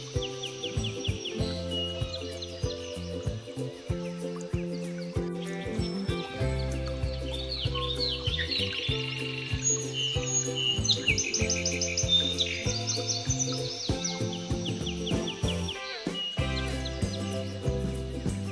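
Birds chirp and tweet continuously over a steady tonal backdrop, with bright calls scattered throughout and no one talking.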